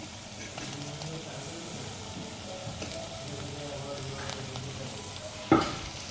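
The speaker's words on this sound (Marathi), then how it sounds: "हे आपल्याला आता असं उलटपालट करून जरा थोडा वेळ तेलावर परतून घ्यायचं आहे" Peanut-stuffed brinjals frying in oil, a steady close sizzle and hiss with soft stirring scrapes and one sharp clack of a spatula near the end, no talk.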